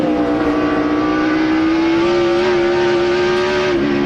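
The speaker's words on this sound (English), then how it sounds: "Wow, he's on the rev limiter there. You hear the engine cutting out." A race car engine at the 2006 Zippo 200 sits on the rev limiter, a loud, sustained high-pitched drone with small stutters as the limiter cuts in, heard alone without commentary.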